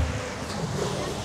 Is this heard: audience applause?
no